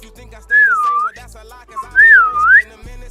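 A person whistles close by in two sliding phrases, each swooping down then back up in pitch, with a short pause between them.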